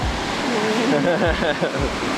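Middle Falls, a waterfall beside a sheer rock face, pours with a constant broadband rushing roar close by, while voices speak faintly over the water.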